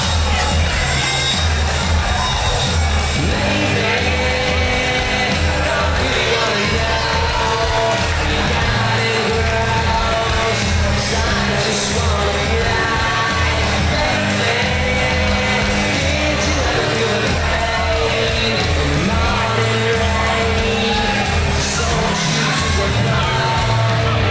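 A Norwich crowd at a white collar boxing event cheers and roars steadily as a fan-favourite boxer walks to the ring, a loud, continuous wash of voices filling the hall.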